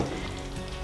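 Pork for a red asado sizzles loudly in a pot as it is stirred, a dense, close frying crackle that fills the whole brief moment without any voices.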